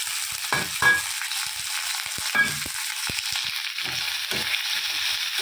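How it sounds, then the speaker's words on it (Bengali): Prawns coated in ginger-garlic-chilli paste fry in a pan, a close, bright sizzle punctuated by several sharp spatula taps and scrapes against the metal. "তো ভালো করে লাল লাল করে ভেজে নিচ্ছি। এবার চিংড়ি মাছটা দিয়ে দেবো, ওটাও ভাজা হয়ে যাবে।"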